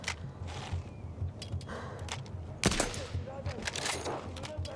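Gunfire in the World War I shooter Battlefield 1 campaign, a few sharp shots rising out of a busy game soundscape, one louder crack near the middle, with someone talking over the action.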